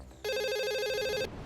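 A telephone rings once in a short, bright electronic trill, clear and close, as a call is placed to the police station.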